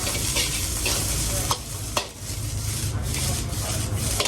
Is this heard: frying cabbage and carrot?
yes